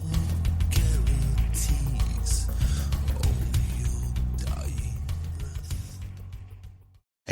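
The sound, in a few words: door opening with a creak, sound effect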